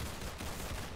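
Rapid gunfire from a Roblox shooting video game crackles in a quick, fairly faint burst of repeated shots with no talk over it.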